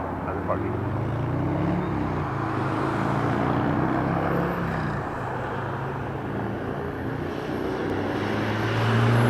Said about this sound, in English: this is gonna be Delta Aerolíneas DAL 2835 coming in from Seattle, Washington. And this is gonna be an Airbus A321